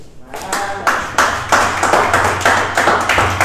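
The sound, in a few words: audience clapping in acclamation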